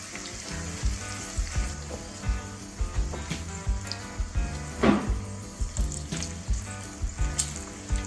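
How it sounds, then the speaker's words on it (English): Thick apple smoked bacon frying slowly in a pan, a steady close sizzle with soft rhythmic crackles and pops repeating through the whole stretch, no voices over it. "Another good reason to cook your bacon nice and slow, regardless of the type, is you don't get as much splattering"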